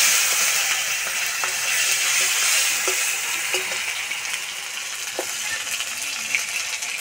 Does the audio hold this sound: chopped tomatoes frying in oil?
yes